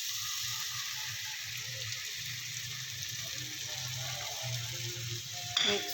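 Tomato puree with turmeric and chili frying in a pan for an arvi (taro root) curry, a steady close sizzle with low bubbling and soft stirring, plus a brief clatter near the end.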